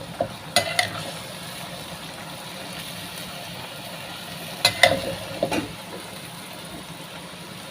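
Steamed meat goes into a hot pan and is stir-fried, with a faint continuous sizzle broken by a few sharp clacks and scrapes of a utensil against the pan, clustered near the start and again later.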